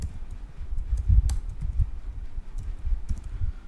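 Fingers tap on a computer keyboard with soft, muffled clicks in an irregular typing rhythm. The sound is close but fairly quiet, with no voices.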